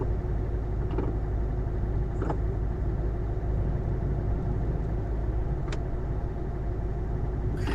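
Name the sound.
truck engine in video game Euro Truck Simulator 2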